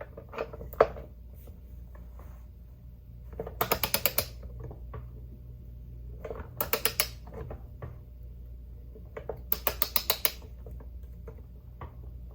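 Three quick bursts of ratchet clicks from a wrench working on a bent crankshaft of a 1977 Toro Whirlwind lawn mower, each a rapid metallic ticking run, close and crisp against a quiet background.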